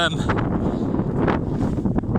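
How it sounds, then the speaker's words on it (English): Steady, loud wind buffeting the microphone outdoors on the old RAF Woodhall Spa runway, a continuous rough roar with gusty surges throughout. "God, it's so windy, honestly."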